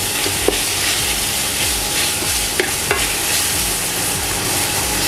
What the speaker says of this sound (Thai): ผมจะผัดให้มันประมาณออกแห้งๆเลยนะ